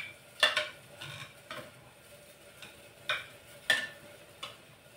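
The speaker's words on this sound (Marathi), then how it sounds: "आता ह्या भाज्या ज्या आहेत ना थोड्याशा अशा या चम्मचच्या सहाय्यानेच बारीक करून घ्यायच्या आहेत" A spoon mashes cooked vegetables for sambar in a metal pot, making irregular scraping knocks and clinks, some sharper than others, close up with no talking.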